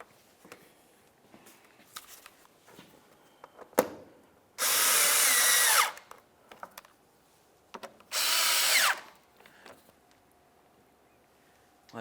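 A power tool drives bolts into a 2011-2018 Volkswagen Jetta during water pump and timing belt work: two loud whirring bursts of about a second each, separated by light clicks and handling noises up close.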